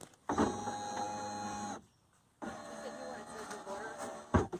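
Power window regulator motor from a 1995-2002 Firebird/Camaro whirring steadily for about a second and a half, pausing, then running again with a brief clunk at the end, close and fairly loud.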